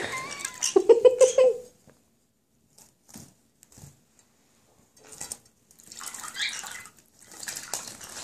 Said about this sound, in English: I'm getting splashed over here.